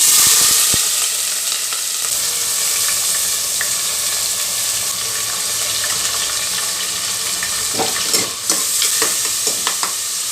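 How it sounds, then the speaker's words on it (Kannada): Soaked chana dal stirred and frying in oil in a pressure cooker makes a loud, close, continuous sizzle with intermittent scraping and clinking of a spoon against the metal pot, with no talking. "ಎಣ್ಣೆಯಲ್ಲಿ ಒಂದು ಸ್ವಲ್ಪ ಫ್ರೈ ಮಾಡಿದ್ರೆ ಅಂದರೆ ಕಡಲೆಬೇಳೆ ಬೇಗನೆ ಬೇಯುತ್ತೆ"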